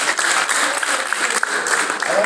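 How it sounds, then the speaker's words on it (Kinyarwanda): A village gathering breaks into dense, loud applause, steady rapid clapping from many hands close by, with voices talking over it throughout. "amashyi menshi cyane"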